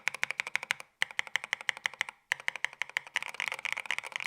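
Typing on an Epomaker Brick 87 mechanical keyboard, close and crisp: a quick run of clacking keystrokes, two brief pauses, then faster overlapping presses at the end, with no talk.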